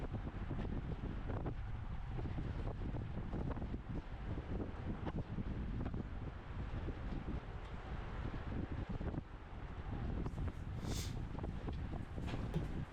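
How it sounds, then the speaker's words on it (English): Steady, loud wind buffeting a microphone on a rider during a lap of a bicycle race, a dense, unbroken roar that holds for the whole stretch with no voices. "I am eating a lot of wind on this lap"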